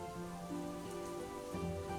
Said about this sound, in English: Ah, rain.